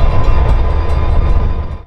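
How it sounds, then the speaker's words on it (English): Western Maryland painted SD40-2 diesel locomotive number 7471 hauling a train, a loud, steady rumble of engine and rolling wheels close by, with no speech. "the locomotive was subbed out for Western Maryland painted SD40-2 number"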